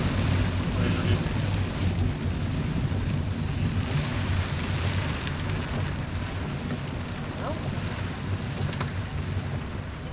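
A thunderstorm brings steady, dense rain hissing on surfaces and low rumbles of thunder rolling underneath for about ten seconds. The sound is loud and continuous.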